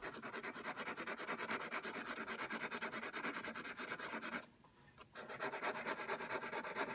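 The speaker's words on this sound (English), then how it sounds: "I'm going to sharpen this knife. It's not sharp enough anymore." Rhythmic back-and-forth rasping of a knife blade stroked over a small Arkansas pocket whetstone, steady strokes with a brief pause near the end, close and fairly quiet.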